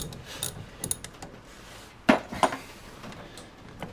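Metal clinks and a ratchet-like rattle come from disconnecting the positive battery terminal on a 1972 Triumph Dolomite: light scattered taps, then a sharp, close clank near the midpoint followed by a couple of smaller knocks.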